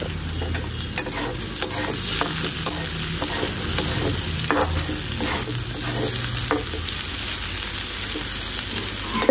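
Ingredients toasting and being stirred in a pan produce a continuous close sizzle, with repeated scraping and clacking strokes of a spoon against the pan, steady throughout and with no talking.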